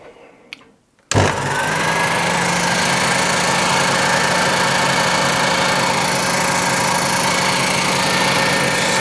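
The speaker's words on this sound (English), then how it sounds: "the Sherline is a bit noisy" Sherline 5000 benchtop milling machine starting up after a second of quiet, then running steadily with a loud, constant high-pitched motor whine and hum, close by and alone.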